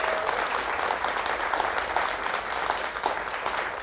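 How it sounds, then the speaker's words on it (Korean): An audience claps after a book talk, sustained dense applause that fills the room evenly from start to finish without any voices breaking through. "마지막으로 좋은 이야기 들려주신 민태기 박사님께 큰 박수 부탁드리도록 하겠습니다"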